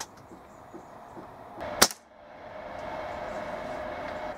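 A single sharp report from a Weihrauch HW97 spring air rifle freshly fitted with a new spring and guides, fired at a target; one crisp, fairly loud crack with a brief tail over steady background hiss.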